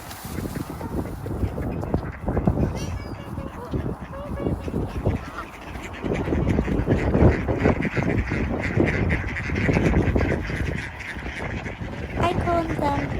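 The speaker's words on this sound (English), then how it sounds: "I will feed the duck and birds." Ducks and geese being fed seeds, cereal and bread outdoors quack and honk close by, a busy overlapping chatter of calls throughout, with a person talking in between.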